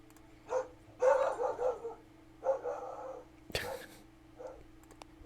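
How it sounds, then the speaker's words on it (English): A dog gives a few short barks spread across several seconds, fairly close and moderately loud over a faint steady hum, with soft talk around them. "Silly dog."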